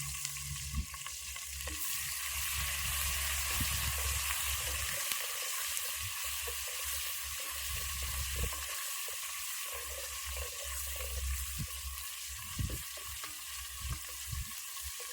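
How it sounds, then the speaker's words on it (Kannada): Ginger and garlic paste fry in hot oil for a mutton curry, a continuous crackling sizzle close by with bursts of stirring and scraping, under a low background hum. "ಶುಂಠಿ ಬೆಳ್ಳುಳ್ಳಿ ಪೇಸ್ಟ ಬೆಳ್ಳುಳ್ಳಿ ಒಂದು ಸ್ವಲ್ಪ ಫ್ರೈ ಆಗಬೇಕು"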